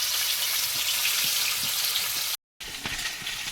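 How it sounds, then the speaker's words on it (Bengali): Fish seasoned with salt and turmeric sizzle in hot oil in a heated wok, a steady crackling hiss with scattered pops, briefly cutting out before resuming. "মাছগুলো সব ভাজা হয়ে গেছে"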